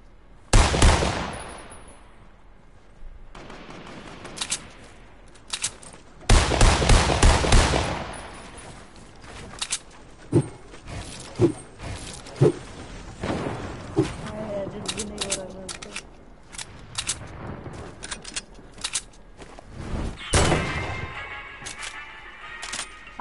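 A video game shootout with bursts of automatic gunfire and single sharp shots, some loud volleys and some scattered, mixed with players talking between and over the shots.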